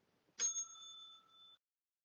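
A single bicycle-style bell ring with a sharp strike and a bright ringing tone that holds for about a second before stopping, heard alone and fairly close.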